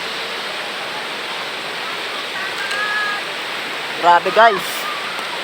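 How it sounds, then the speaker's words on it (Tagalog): A strong river current swollen after rain rushes past in a steady, close, broadband roar; a voice speaks briefly near the end. "Grabe ng ilog oh. Ang agos ng tubig dito, grabe."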